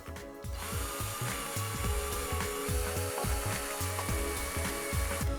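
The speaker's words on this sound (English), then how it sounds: "we'll give it a bit of a drill" A power drill whirs close up in short repeated bursts, drilling screw holes while mounting a soft-tip dartboard, with a grinding, ratcheting edge as the bit bites into material.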